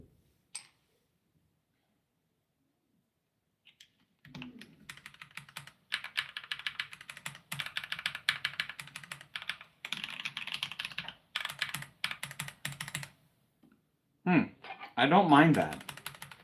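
Keyboard fitted with swapped switches and thick keycaps being typed on, producing close bursts of clicky keystrokes in quick runs separated by pauses, with brief talk near the start and end.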